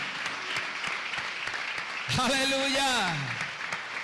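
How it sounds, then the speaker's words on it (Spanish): A church congregation applauds steadily and loudly all the way through, while a voice shouts out briefly over the clapping near the middle. "Denle fuerte el aplauso a Él."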